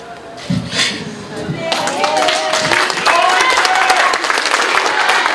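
Applause at a candidate's campaign office opening, a crowd clapping that swells into loud, sustained hand claps after a quieter start, with voices and cheers mixed in.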